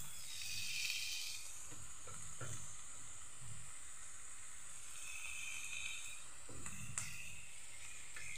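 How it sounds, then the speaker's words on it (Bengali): Chopped garlic sizzles steadily in a hot frying pan, a continuous close hiss with faint stirring clicks and scrapes throughout, no talking. "এটাকে ভাজবো, ব্রাউনি করব। এটার মধ্যে রসুন কুচিও ছেড়ে দিই।"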